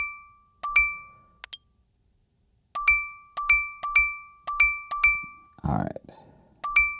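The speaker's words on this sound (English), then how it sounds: "We're gonna get these notifications from the positions I just closed." Trading app notification dings for closed positions, a string of sharp bright chimes arriving in irregular bursts, some in quick pairs, with a short burst of muffled noise near the end.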